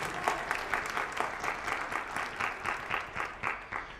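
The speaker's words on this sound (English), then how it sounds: "Round of applause for yourselves also." An audience at a high school midwinter band concert claps in sustained applause, a steady, fairly close wash of many hands throughout.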